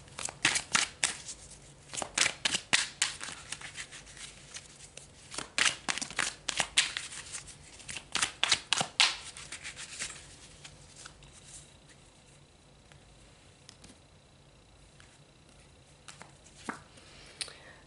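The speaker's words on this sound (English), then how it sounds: "Let's pull some more cards." Tarot cards being shuffled and pulled, a run of crisp riffling flutters in bursts over the first nine seconds, then only quiet room tone with a few faint card slides.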